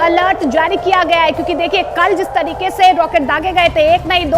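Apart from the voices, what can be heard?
No everyday noise stands out behind the speech.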